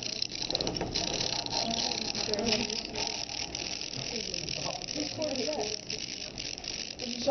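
A continuous metallic rattling and clicking, like a small coin shaken around inside a hollow mechanism, fairly close and steady throughout.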